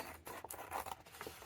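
Scissors cut paper for scrappy junk-journal cards in a few quick, quiet snips and rustles in close succession.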